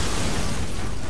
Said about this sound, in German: Überall Explosionen.